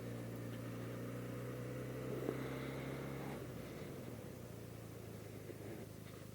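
A Benelli 302S with a 300cc eight-valve parallel-twin engine hums steadily under way, a smooth droning engine tone with a pitch shift partway through, heard at moderate level with no speech.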